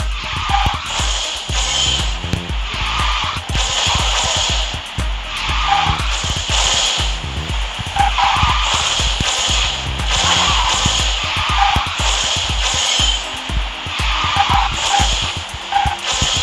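An Everstar car drifts in the racing game Garena Speed Drifters, with repeated screeching tyre skids and engine revs in a busy rhythmic burst pattern, loud and continuous.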